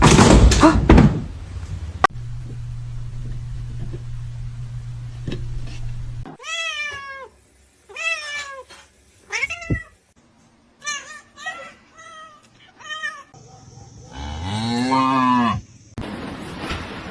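A cat meows repeatedly in a series of close, loud, drawn-out cries with gaps between them. Some calls rise and fall like a moo, and a door sound and a voice occur earlier.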